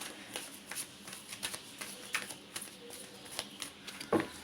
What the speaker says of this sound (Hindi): वाओ, कार्ड्स फ्लिप होके आ रहे हैं।